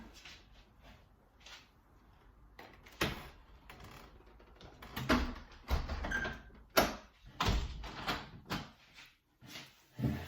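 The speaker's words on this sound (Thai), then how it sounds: "เดี๋ยวปิดประตูดีกว่านะคะ" A door is shut at home on a cold day, heard as a series of close knocks, slides and thumps of the door and its latch, with a few sharp impacts and no talking over them.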